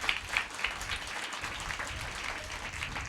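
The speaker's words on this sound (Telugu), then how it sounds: "గట్టిగా చప్పట్లు కొట్టండి ఒకసారి." A church congregation claps together during a sermon, a short burst of dense applause that holds steady at moderate volume throughout.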